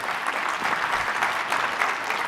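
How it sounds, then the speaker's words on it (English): Audience at an education summit keynote gives steady, polite applause, a moderate even wash of many hands clapping without cheers throughout the short stretch. "you guys are clapping way too politely"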